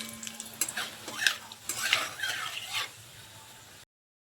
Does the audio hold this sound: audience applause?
no